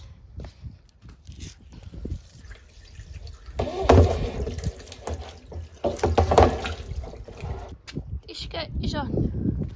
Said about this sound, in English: Oh yeah, this needs to be filled with water first.